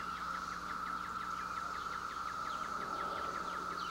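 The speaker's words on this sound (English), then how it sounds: "the noise you hear in the background is the noise of the cicadas" Constant high buzzing of cicadas fills the background, a dense steady drone with faint pulsing, distant and fairly quiet.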